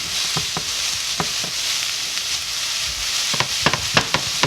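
Vegetable noodles cook in a Tefal non-stick pan with a constant bright sizzle, and scraping stirs break through now and then, with a cluster of sharper scrapes toward the end.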